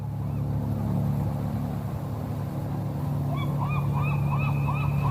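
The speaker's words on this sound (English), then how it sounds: "Man, that's one scary bird." A scary bird in the video game The Journey Down gives a series of repeated honking calls over a steady low ambient drone, rhythmic and moderately clear in the latter half.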